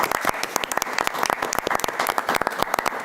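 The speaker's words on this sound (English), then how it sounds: "let's give Kristen a round of applause" Applause at a conservation commission meeting for a woman named Kristen, a small room's worth of hands clapping close and fairly loud, the individual claps distinct and uneven throughout.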